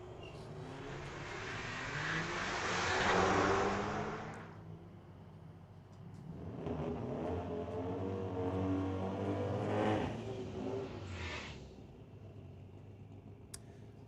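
Street legal drag racing cars at Mission Raceway Park accelerating down the strip, two distant roaring surges swelling and fading in turn, with faint clicks over the quiet between them.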